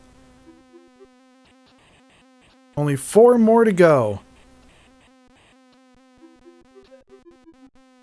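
Buzzing bee sound effect from the Commodore 64 game Smack Those Crazy Weeds, a loud warbling chiptune drone of about a second and a half over a quiet background of game music, with a person talking in the clip.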